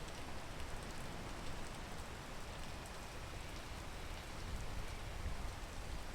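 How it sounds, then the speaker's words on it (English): Steady rainfall in a video game, a dense unbroken hiss of drops striking surfaces with a faint low rumble underneath, constant in level throughout, with no voices. "We'll wait for the rain to stop first."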